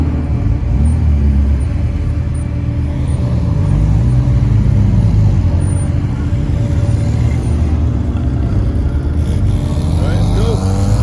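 MINI Cooper cars pass by at a MINI Cooper drive meet, a loud, continuous road rumble and engine drone that swells and fades as they go by, with voices faintly underneath.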